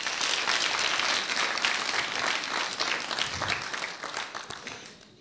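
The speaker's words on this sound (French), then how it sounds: "j'aimerais bien que vous applaudissiez cet homme" Applause from an audience at a university sponsorship forum, a dense steady patter of many hands that holds for several seconds, then thins and fades toward the end.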